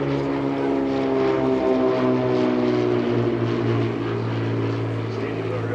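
Propeller warbird aircraft at an airshow, including BT-13 trainers landing after formation flight, give a steady, loud droning engine hum with strong low harmonics throughout, continuous and near.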